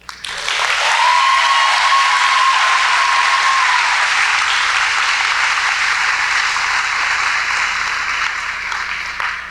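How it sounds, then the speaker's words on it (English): Loud, sustained applause from a graduation ceremony audience, dense clapping filling the room steadily for nearly ten seconds with a faint tone briefly sounding underneath before fading slightly at the end. "So let's give ourselves a pat on the back and a round of applause"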